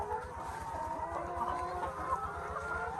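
Laying hens on an egg farm cluck softly in a quiet, continuous chorus of overlapping calls. A faint crow is mixed in, and the low background murmur carries no clear talk.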